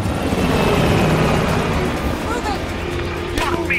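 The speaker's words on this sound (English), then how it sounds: "The chopper got away!" A helicopter in Call of Duty: Black Ops Cold War flies off, its steady loud rotor drone and engine whine filling the clip, with game effects and shouted voices mixed in.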